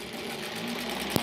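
A 1938 Kenmore Model 38 sewing machine stitching half square triangles, its motor humming in a steady, even whir up close with a brief clack near the end.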